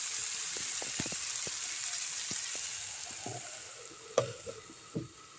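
Vegetable bhaji with chicken liver and carrot frying in a pan, a soft steady sizzle with scattered light clicks and a few sharper knocks of stirring near the end.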